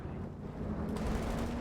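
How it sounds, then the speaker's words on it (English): Heavy tank cannon fire in an online war video game, a booming shot pushing back a Cromwell tank, heard as a dense, loud rumble with a sharper burst partway through and no talk. "Cromwell getting forced away by a much bigger cannon."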